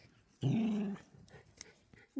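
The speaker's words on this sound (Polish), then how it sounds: "Moje pieski tak warczą" Dogs growl in a forest during a walk, one sustained low growl lasting about half a second, then quieter snuffling and a short final growl, fairly close.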